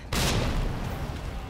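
A grenade goes off in Resident Evil 2 with a sudden loud blast, then a dense rumbling roar that slowly decays.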